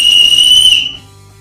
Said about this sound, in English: The adjustable sternum strap features an integrated emergency whistle.